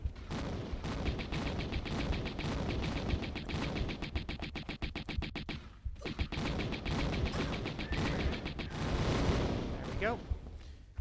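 Rapid automatic gunfire from the horseman enemy in the Atlantis level of the 1996 video game Tomb Raider, loud sustained bursts of shots with a brief pause midway, mixed with game sound effects.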